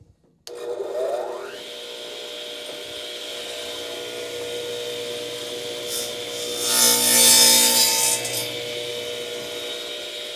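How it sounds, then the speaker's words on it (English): Wood being trimmed by hand for building mini mating nucs for bees, a steady rasping, rubbing scrape that runs continuously, swelling louder near the middle and end, heard close and alone with no talk. "just trim it just a little bit to start"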